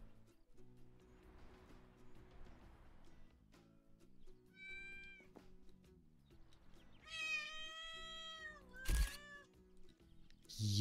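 Cat meows from the Animal Shelter Simulator game, a series of clear, rising-and-falling mews toward the end, the last one loud and close, with a short sharp thump and quiet background music underneath.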